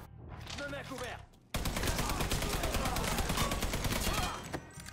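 Heavy sustained gunfire with bullets flying in the video game Mafia 3, loud and close, bursting in after a short quieter lead-in and rattling on continuously, with faint talk at the start.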